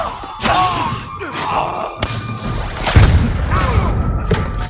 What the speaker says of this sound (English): so he's firing fireworks at me now.